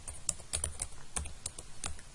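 Quick, irregular clicks of typing on a computer keyboard, close and fairly quiet, with keys struck in short uneven bursts and no voices.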